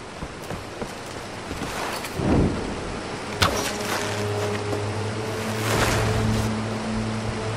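Rushing waterfall in the Tomb Raider video game, a steady broadband roar of falling water with a few surging swells, continuous throughout with no voices.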